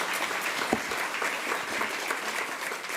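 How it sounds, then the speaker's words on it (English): Steady applause from an audience at a women-in-leadership breakfast event, dense clapping sustained for the full three seconds with a few sharper individual claps standing out. "Please give her a round of applause."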